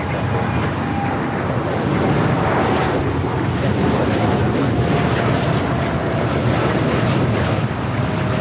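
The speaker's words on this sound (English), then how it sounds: "This is United Airlines 1591 taking off to Newark on the 787-9 Dreamliner." A United Airlines Boeing 787-9 Dreamliner taking off from LAX, a loud, close, continuous engine roar with deep rumble and steady broadband power throughout, little else audible.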